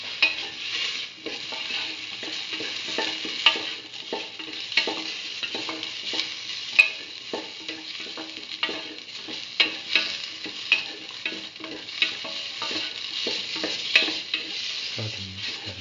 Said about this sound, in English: saute thoroughly.